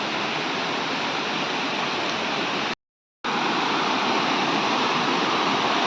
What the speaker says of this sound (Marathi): आता आपण पोचले धबधब्याच्या इथं